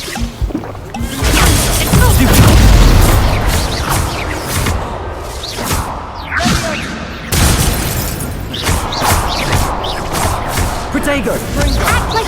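Expulso explosion spells in Hogwarts Legacy, loud booming blasts and crashing debris in repeated bursts, with spoken spell incantations over the top.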